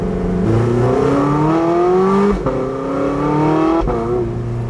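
A Porsche 918 Spyder engine revs loudly and close by in a smooth rising howl, climbs twice, drops off, then rises once more, with nothing else heard.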